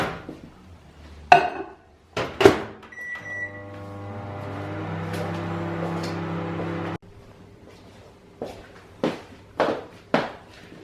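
A microwave oven heating a protein mixture: door clunks and kitchen handling at the start, then a steady electric hum for several seconds that cuts off abruptly, followed by more knocks and clatters of dishes.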